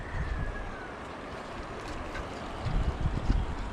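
Heavy rain arrives as a dense, steady roar of broadband hiss that swells slightly toward the end, with low rumbling underneath and no voices.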